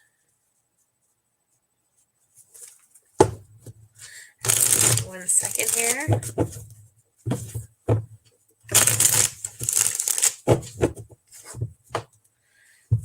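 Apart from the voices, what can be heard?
shuffling a deck of cards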